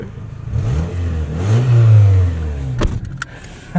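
A 2001 Toyota Camry LE engine revs up and settles, its exhaust note rising to a loud broad swell mid-clip before easing off, followed by a few sharp clicks near the end.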